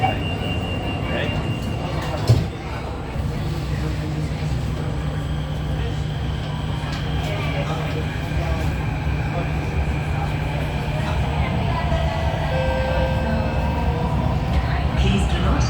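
Riding aboard an SMRT Thomson-East line train, a CRRC Qingdao Sifang KSF CT251, in Singapore; a steady interior rumble with rising motor whine and a brief thump early on, continuous and close.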